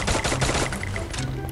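An XM8 assault rifle in a shooting video game fires a rapid automatic burst, a dense run of sharp close shots followed by a few trailing pops, loud, no voices.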